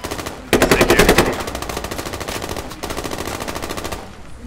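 Sustained, rapid automatic gunfire in the military shooter game Squad, a loud close stream of evenly spaced shots that runs almost nonstop, briefly dips in intensity, then continues.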